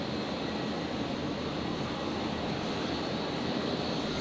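A Virgin Boeing 737-700 arriving from Sydney touches down at Brisbane airport, a steady, broad jet roar held at even loudness throughout with no voices.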